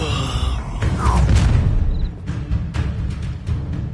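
A burst of fire erupts as the Incendio spell is cast in Hogwarts Legacy, a loud whooshing roar that lasts a second or so, followed by scattered crackles and thuds from the surrounding fight.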